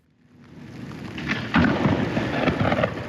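Heavy rain pours steadily during a Midwest thunderstorm, swelling from quiet into a loud dense roar with rumbling thunder underneath and no voices.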